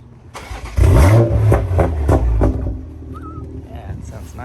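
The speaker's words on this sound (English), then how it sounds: "Yeah, it sounds nice. All right, first time in the Supra." A Toyota Supra running on E85 with bolt-on mods revs up from idle with a strong low engine roar that surges and pulses through several throttle blips, then settles back under quiet voices in the car.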